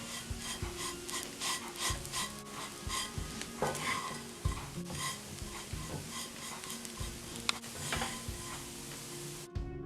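Chopped kataifi dough roasting in a pan for a strawberry kunafa dessert, giving a steady close-up scraping, stirring rasp with faint sizzle and occasional pan knocks throughout, no voices.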